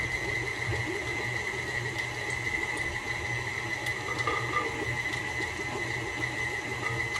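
An electric kitchen mixer beats eggs into biscuit dough for Nid du Vanneau biscuits, giving a steady, even motor whine with a constant hum and no pauses.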